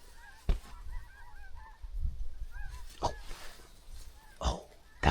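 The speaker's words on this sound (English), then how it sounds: "we finally got some birds coming back, a couple ducks." Wild ducks calling as they fly in over a hay bale blind, a scatter of short quacking and honking calls at moderate distance, with a few louder nearby thumps and rustles and no speech.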